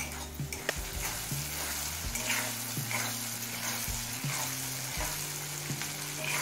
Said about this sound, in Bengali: এবারে সমস্ত কিছু খুব ভালো করে কষিয়ে নেব।